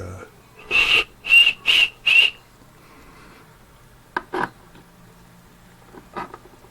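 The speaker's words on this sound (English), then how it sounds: "flute, or a whistle, I mean." Four short, shrill whistle blasts come in quick succession from a carved clay whistle shaped like a grotesque face, followed by a few fainter brief toots.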